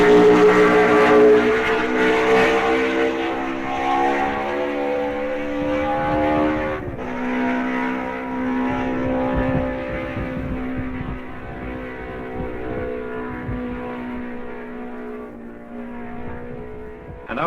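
Isle of Man TT racing motorcycles on lap 5 in wet weather near the Bungalow roar steadily, their engine note droning and then dropping in pitch as one passes, loud and continuous throughout.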